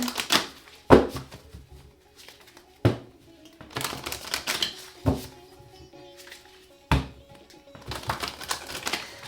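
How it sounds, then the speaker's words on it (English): Tarot cards shuffled by hand, a run of crisp riffling and slapping bursts with short pauses between, close and fairly loud, no speech. "Okay, 2 more shuffles."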